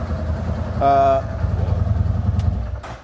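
A CFMoto Z950 Sport motorcycle with a Whiskey Bent exhaust idles after running about ten minutes, a steady low engine rumble close by, with a brief tonal whine near the start and a person talking over it.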